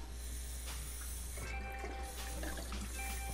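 A bathroom sink faucet runs in a Las Vegas house, giving a faint, continuous hiss and trickle of water throughout with no talking.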